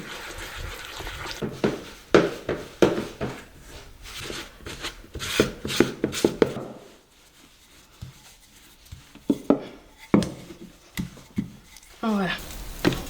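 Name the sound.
mixing kouign amann dough with cold water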